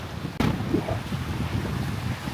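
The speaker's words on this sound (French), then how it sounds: "Sachant qu'il y a beaucoup de vent, il fait super froid" Strong cold wind buffets the microphone beside open water, a steady roaring rush with a sudden sharp gust burst early on, then continuous turbulent rumble, loud and close, with no voices.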